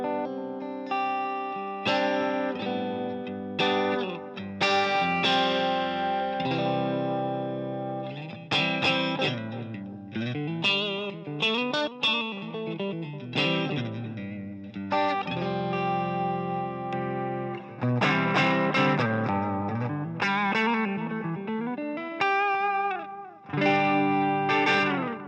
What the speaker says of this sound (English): This is the Fuchs ODS, and I've got a little bit of reverb and a little bit of delay from the amp plug-in here